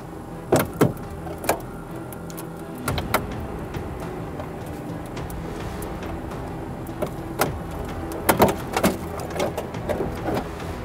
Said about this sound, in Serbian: pretpostavljam da oni sada seku automobil